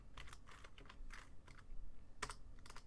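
Rapid keystrokes on a computer keyboard while writing C++ code for a Pong game, irregular bursts of close, crisp clicks with a slightly louder clack near the end, no voice.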